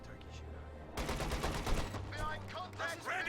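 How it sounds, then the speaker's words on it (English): A .50 cal machine gun in a war video game opens up in a sudden loud rapid stream of shots over low battle ambience, with a voice briefly audible. "I think it's pretty cool that the 50 cal can reach this house."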